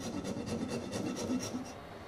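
A file or rasp works a block of especially hard wood being shaped into a shoe last, giving continuous soft scraping strokes at close range, fairly quiet and even.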